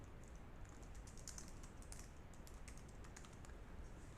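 Keystrokes on a computer keyboard while entering text in a word processor: a quick, irregular patter of soft clicks, faint and close, with no voices.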